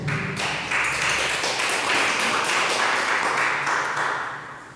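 A church congregation claps in praise during a healing and deliverance service, sustained, fairly loud rhythmic clapping that fills the room and holds steady before easing slightly at the end.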